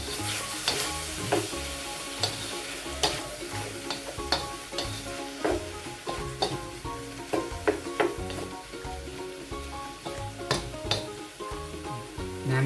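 Pork stir-frying in a pan for nam prik ong sizzles steadily while a utensil scrapes and taps against the pan in irregular strokes, close and fairly quiet, with no talking.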